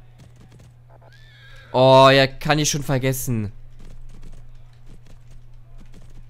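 A horse whinnies loudly and clearly in the riding video game Riding Club Championships, with hoofbeats around it and someone talking briefly afterward.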